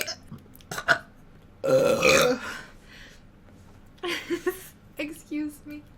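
Loud burps after a burrito meal, one long drawn-out belch in the middle followed by a couple of shorter ones, with a voice speaking between them.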